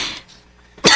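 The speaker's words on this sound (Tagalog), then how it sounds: "No, sa malang ubo nimo." A single sharp cough bursts out near the end after a brief quiet stretch, preceded by a faint breathy sound.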